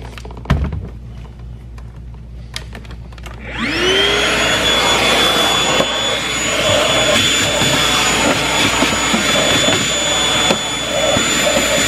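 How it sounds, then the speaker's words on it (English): A vacuum cleaner roars to life after a few seconds of quiet knocking, then runs loudly and steadily, its suction whine shifting slightly as it pulls at debris. "I'm gonna take the vacuum, I'm gonna suck all that out."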